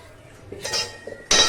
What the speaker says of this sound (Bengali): প্রেশার কুকারে ঢাকনা